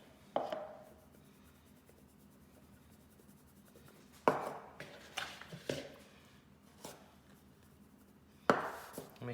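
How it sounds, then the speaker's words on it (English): Chelsea bun dough being kneaded and stretched on a floured work surface: a few soft thumps and slaps as it is pressed down, separated by longer quiet stretches of faint rubbing. "kneading our dough. And what we're doing is just stretching it"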